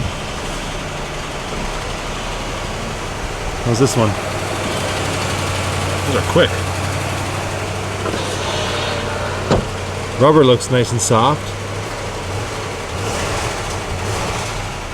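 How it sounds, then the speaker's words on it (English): An old carbureted car engine idles steadily in a garage, a low continuous rumble running under nearby conversation, with a few short clicks and knocks along the way. "The engine sounds really good."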